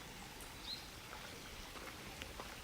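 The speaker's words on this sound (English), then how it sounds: "Oh, I hear the rain falling." Early morning rain in Tokyo patters softly and steadily, faint and distant, with a few light drips and no voices.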